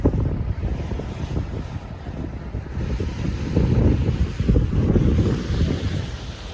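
Strong gusting wind buffets the microphone at a beach while waves surge and wash ashore beneath it, a loud continuous roar that swells and eases with no voices.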